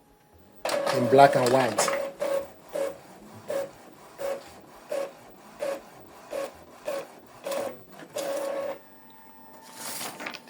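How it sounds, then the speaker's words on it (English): Epson EcoTank ET-2876 inkjet printer copying a document: a steady train of short rhythmic mechanical whirs and rubbing feed strokes, close and moderately loud, with a voice speaking briefly over the start. "So the document is copying"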